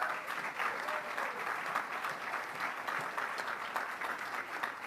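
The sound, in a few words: audience applause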